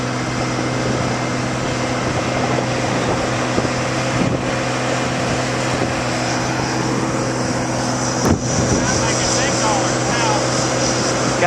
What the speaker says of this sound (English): Got the rollers working in tandem.